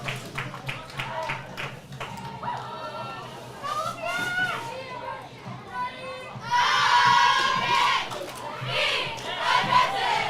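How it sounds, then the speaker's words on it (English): A high school cheerleading squad chants and shouts during a football game at night, with a crowd roaring and cheering loudly from below, and the noise swelling in the second half. "That's our Olympian cheer squad below us that you can hear, folks."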